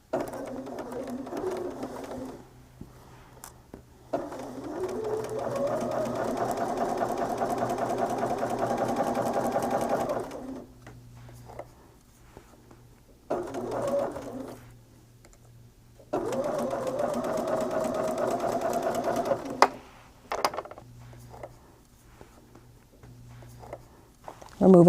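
A sewing machine stitches two quilt pieces with a 1/4 inch foot, its steady motor whirring close by in long runs of several seconds, broken by short silent pauses.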